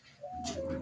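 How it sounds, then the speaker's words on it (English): Pigeons coo with a single low, soft, rolling call nearby, a brief throaty burble standing alone without talk. "those are the pigeons."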